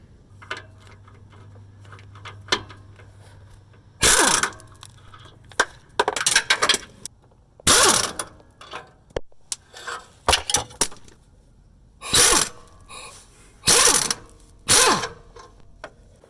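A 15mm socket ratchet working loose exhaust bolts on a car or truck, loud close bursts of rapid clicking ratcheting, repeated in short spurts with pauses between, and no talking.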